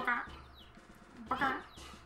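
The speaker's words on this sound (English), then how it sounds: "A chicken." Video-game chicken clucks from The Legend of Zelda: Majora's Mask, two short bursts of clucking about a second apart, fairly faint, with a soft game background beneath.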